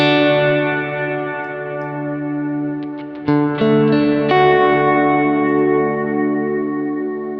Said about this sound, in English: it's a beautiful sounding reverb, I think